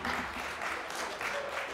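Audience applause for a debate speaker at a debate final, a short dense burst of clapping at steady volume.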